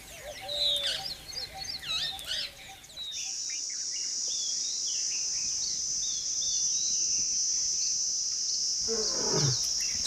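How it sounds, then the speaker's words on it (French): A lion roars at Gir forest in India, its deep voice sounding among calling birds in the first seconds, then a long steady insect drone, with a final low rumbling growl rising near the end. "le rugissement d'un lion peut s'entendre à plusieurs kilomètres à la ronde"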